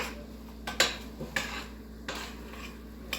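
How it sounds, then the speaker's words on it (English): A spoon stirs spices into a pot of one-pot chili with meat and vegetables, giving several sharp, irregular metallic clinks and scrapes against the pot, close and fairly loud over a quiet background. "And stir this for about 30 seconds"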